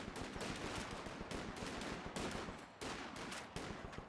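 Sustained machine gun fire in Company of Heroes 2, the World War II strategy game, with dense overlapping bursts and gunshots rattling continuously and loudly throughout, no voices.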